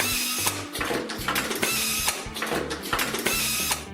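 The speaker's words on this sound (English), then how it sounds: "A capping machine twists each lid down, a tight, decisive squeal, then a hiss as the vacuum seal pulls flat." Capping machine on a peanut butter jar line twisting lids down, heard as loud repeated mechanical cycles of clattering, ratcheting and squealing every half second or so, continuous with no talk.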